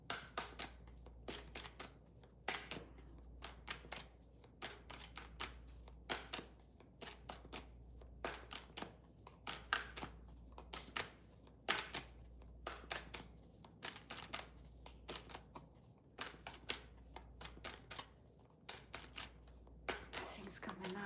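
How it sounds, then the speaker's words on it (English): Tarot cards are shuffled by hand over and over in a steady run of crisp riffling slaps and flutters, close and continuous with little pause. "I've been shuffling forever right now."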